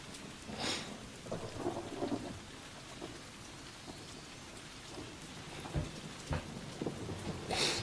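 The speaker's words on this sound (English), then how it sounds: "A procedural thunderstorm." Recorded thunderstorm with steady rain pattering on surfaces, broken by several sharp, close cracks of thunder and lower rumbles scattered through the recording, no one speaking.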